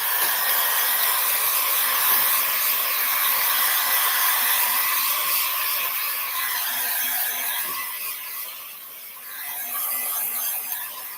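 A handheld dryer blows steadily on an art project with pigment, a continuous close whooshing hiss that dips slightly in level as it moves, with no voice.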